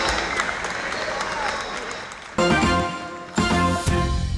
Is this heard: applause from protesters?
yes